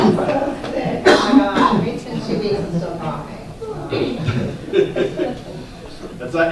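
Harsh coughing bursts, close and loud, mixed in with ongoing talking voices.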